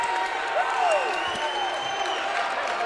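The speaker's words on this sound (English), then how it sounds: "the crowd is urging him on" A college basketball crowd at Sewanee, hosting Berry College, roars and cheers steadily with shouts and whoops rising from the stands, as commentators talk over the noise.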